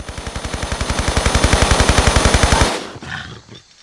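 Rifle fire aimed at a tiger in Tomb Raider III: a loud, rapid, evenly spaced burst of roughly twenty shots lasting under three seconds, then a sudden stop leaving faint game ambience.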